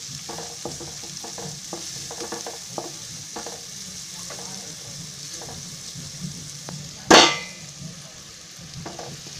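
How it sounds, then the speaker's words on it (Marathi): Onions frying in a pan for potato poha, stirred with a spoon in steady scraping strokes over a soft sizzle, with one sharp metallic clang near the end. "आता कांदा असं चांगला हलवून घ्यायचा."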